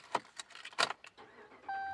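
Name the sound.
starting 2015 RAM 1500 Big Horn with key in ignition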